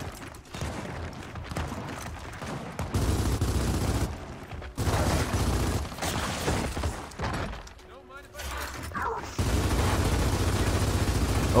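Gunfire in a Gears of War 4 team deathmatch, including a Gnasher shotgun and Lancer, comes as dense loud bursts and rapid shots that run nearly the whole time, with game sounds and a voice talking over them.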